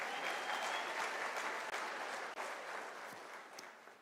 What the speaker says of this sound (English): think you can give a round of applause